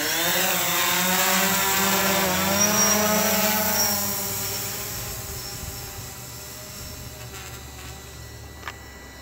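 Mapping drone lifting off and climbing toward about 250 feet for a survey flight, its loud steady buzzing whine shifting in pitch early on, then gradually fading as it ascends away.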